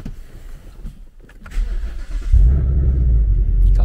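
A 2018 Ford Mustang's engine cranks briefly and then catches, settling into a deep, loud, steady idle rumble nearby, with no talking over it.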